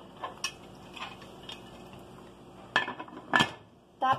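A metal lid clanks onto a cooking pot, likely a pressure cooker, with a few faint scattered taps followed by louder, sharper clatters near the end, all close by with no talking.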